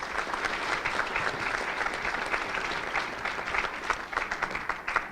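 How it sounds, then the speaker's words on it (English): An audience at a legislative forum applauds senators, a steady, dense round of clapping from a room full of people that holds at an even level for several seconds with no voices over it. "Let's give them another round of applause, please"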